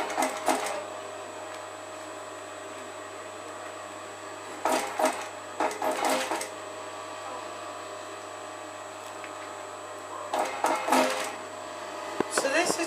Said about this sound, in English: I'm just going to sew these two together, fixing it